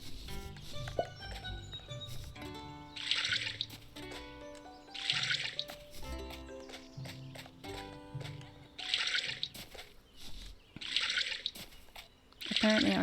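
Watering flowers in the farming game Littlewood: short splashy bursts of water repeat every couple of seconds over soft, tinkling game music.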